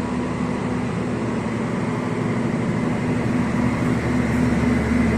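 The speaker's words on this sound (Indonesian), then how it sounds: "ada KRL melintas langsung tuh" A KRL commuter electric train runs straight through Jatinegara station at night, giving a steady, loud rumble and hum of wheels and motors that holds even throughout, with no talk over it.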